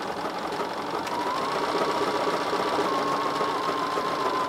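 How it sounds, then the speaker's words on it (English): A sewing machine runs steadily, stitching two pieces of rope together to shape the curved side of a rope bowl, with a continuous close whir throughout and no talking. "we just need the two pieces of rope that we're sewing together"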